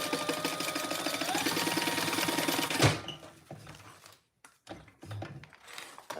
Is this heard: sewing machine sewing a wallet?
yes